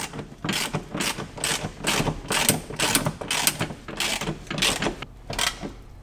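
Ratchet wrench snugging a second-row seat bolt onto its stud in a 2008-2020 Dodge Grand Caravan, about a dozen quick rhythmic clicking bursts close up and fairly loud, with no talking.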